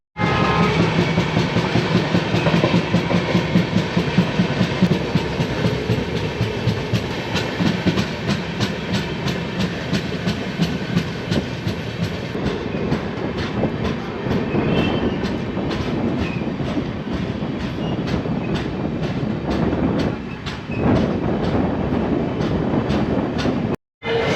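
The Puri-Bikaner Express runs steadily on the rails with a dense, continuous rumble and a rapid, regular clickety-clack of wheels over joints, loud and close throughout.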